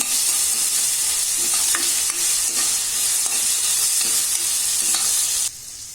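Soaked moong dal sizzles loudly in a hot pan while a spoon stirs it, with scattered scraping clicks over continuous frying noise that drops off abruptly near the end.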